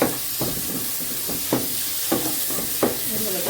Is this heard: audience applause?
no